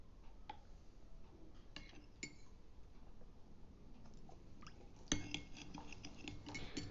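A spoon stirs soy sauce, chilli sauce, tomato ketchup and vinegar together in a bowl, giving faint, scattered clicks and light taps against a quiet background.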